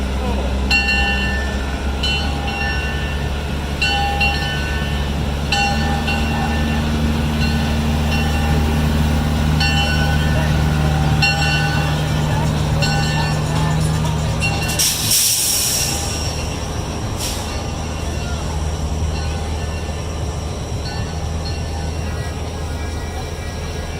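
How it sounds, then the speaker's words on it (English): A free-to-ride miniature train rolls past with a continuous rumble and rhythmic wheel clatter, punctuated by a brief sharp burst midway, while people talk faintly in the background. "It was a miniature train that was free to ride."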